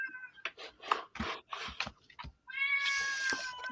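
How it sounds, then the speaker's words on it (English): A black and white tuxedo cat gives a string of close meows, several short calls followed by one longer drawn-out cry, with rustling scratchy noises between them. "That's Tucker, my black and white tuxedo cat."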